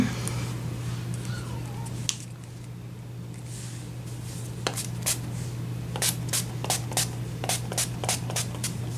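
A faint steady hum underneath, then a run of quick sharp spritzes of Urban Decay All Nighter makeup setting spray, about ten short bursts in fairly even rhythm toward the end, close up.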